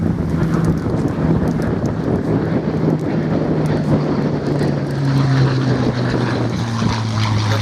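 A Spitfire in Royal Air Force 185 Squadron markings drones steadily overhead, its propeller engine producing a continuous loud roar with a rising tone, mixed with wind buffeting.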